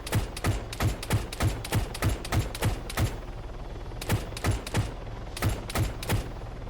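A vehicle-mounted weapon in the military game Arma 3 firing steady, evenly spaced heavy rounds about three per second, with a short pause midway before the regular thumping bursts resume, alone and fairly close.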